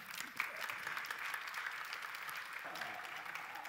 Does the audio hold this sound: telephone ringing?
no